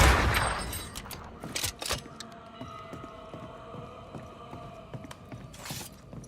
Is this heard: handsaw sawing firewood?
no